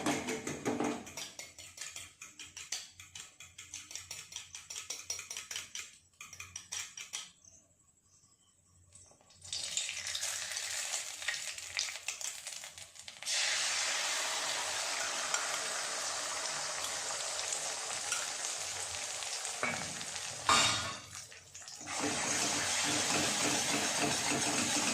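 Egg bhurji frying in a pan while being stirred: a steady broadband sizzle and hiss that drops out briefly, then returns louder and denser, with occasional scraping surges, no talking.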